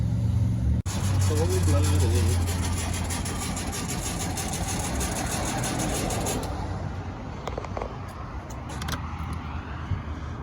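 A 1965 Volkswagen Beetle engine runs loudly, then is given gas with a rough, uneven roar that later eases to a lower idle, while people talk over it.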